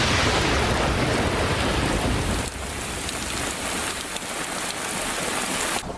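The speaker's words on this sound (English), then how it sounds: "Because it's raining." Steady heavy rain falls as a TV show sound effect, a dense continuous hiss that drops slightly in intensity midway and swells again near the end, with no voices.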